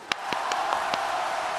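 Brief, fairly faint applause: a steady wash of clapping with a few sharper individual claps standing out early on.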